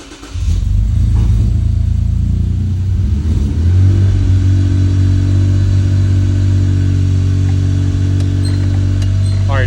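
A 2006–2013 Lexus IS350 engine starts and settles into a loud, steady high idle right after valve cover gasket work and a reconnected manifold sensor, droning close and continuous with a slight rise in pitch partway through.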